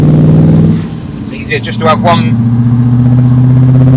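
A 1991 TVR V8S engine holds a steady, throaty mid-range drone under light throttle, close and continuous throughout, with someone talking briefly over the middle.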